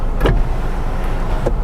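A factory sunroof on a Subaru Outback 2.5i Premium tilts by electric motor, giving a short mechanical whir with two brief clicks inside the car and no talking.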